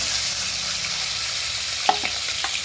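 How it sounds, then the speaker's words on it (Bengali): Fish pieces fry in oil on a wood-fired stove, giving a continuous close hiss and sizzle with a few faint clicks of stirring near the end. "ভেজে নিই সব মাছগুলো"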